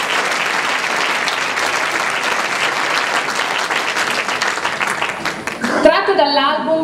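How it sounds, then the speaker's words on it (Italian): An audience at a music program applauds in a dense, loud, continuous wash of clapping, with a voice speaking over the last second as it ends. "Un applauso."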